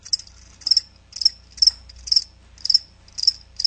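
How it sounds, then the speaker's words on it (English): Crickets chirp in steady, evenly spaced pulses, a bright trilling repeated about eight times against a quiet low background hum. "That's right, crickets."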